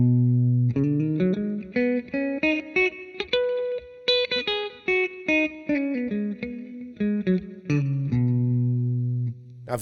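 Electric guitar lick in the Mixolydian scale resolving to B, with bluesy passing tones, played alone through effects with distortion and chorus; a quick run of picked single notes with bends and slides, close and fairly loud.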